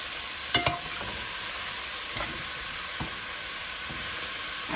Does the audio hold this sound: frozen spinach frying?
yes